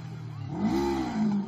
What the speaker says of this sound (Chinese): 故意猛踩油门，制造轰鸣噪音